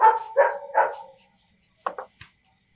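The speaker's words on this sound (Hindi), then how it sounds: "खाली कुत्तों के भौंकने की आवाज आ रही है" Several dog barks ring out at night, a few spaced barks followed by a quick pair, moderately distant with silence in between.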